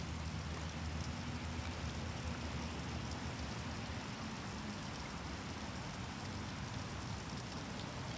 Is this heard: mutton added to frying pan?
no